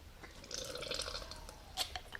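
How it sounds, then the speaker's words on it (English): Water is squirted back through a Sawyer Squeeze water filter with a plunger, giving faint, close trickling and dripping with a few small splashes, no voices present. "and squirt the water back through."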